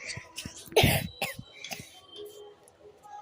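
A single sharp cough from someone with fever and a sore throat stands out near the start, followed by a few softer throat sounds and quiet breathing.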